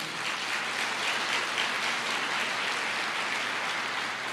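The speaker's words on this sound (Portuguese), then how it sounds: "Pode aplaudir" A church congregation applauds during a worship service, steady dense clapping that fills the space evenly from start to finish with no voices standing out.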